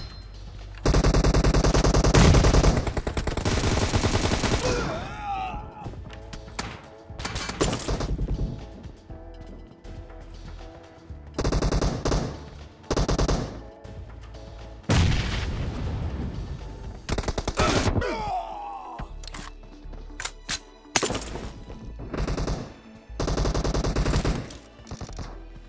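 Bursts of automatic gunfire and single shots ring out during a 4v4 team deathmatch in PUBG, loud and close in repeated clusters separated by short quieter gaps, with no speech.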